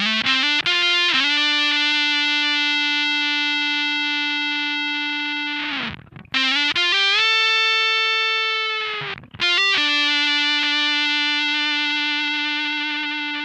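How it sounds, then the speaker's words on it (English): Sustained electric guitar lead lines through a RonSound '75 Hairpie fuzz pedal, heavily distorted notes held long and decaying with a near-feedback bloom, split into three phrases by brief pick attacks and slides, loud and alone. "you get that almost feedback-like sound to the end of your lead lines"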